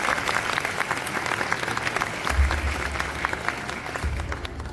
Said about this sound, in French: Alors on peut l'applaudir.